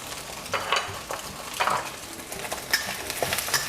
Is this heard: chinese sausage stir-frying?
yes